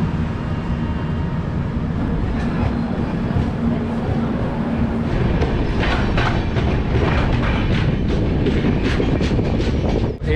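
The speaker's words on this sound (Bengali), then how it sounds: "আমাদের ট্রেন এখান থেকে ছেড়ে দিল বাইরসই জংশন থেকে।" The Shatabdi Express pulling out of a junction on the New Jalpaiguri to Howrah run, heard from inside the coach as a loud continuous low rumble, with rhythmic wheel clatter building in the second half.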